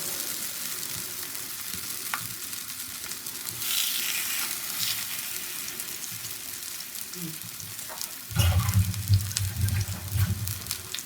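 Stingray pieces frying in coconut oil on a flat dosa pan give off a continuous, close hiss and crackle that swells louder and denser toward the end, with a few light clinks.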